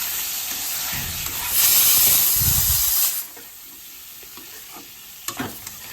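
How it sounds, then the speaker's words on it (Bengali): Singhi catfish pieces fry and are stirred in a spice paste with a loud hissing sizzle that swells, then settles to a quieter crackle with a few utensil clinks. "এখন আগে থেকে ভেজে রাখা মাছগুলো দিয়ে আবারও একটু ভেজে নিয়ে মাছগুলো কষানোর জন্য জল দিয়ে দিচ্ছি।"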